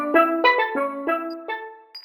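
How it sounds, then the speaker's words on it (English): A steel drums ringtone plays a short melodic phrase of about six bright, ringing pitched strikes with sustained overtones, clear and close with no voices. "Steel drums."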